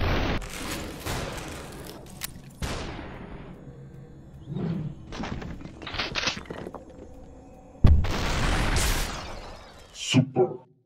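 Shotgun blasts in the stylised shooter Superhot, a few heavy booming bursts spaced through the stretch, with game effects and an excited voice talking between shots.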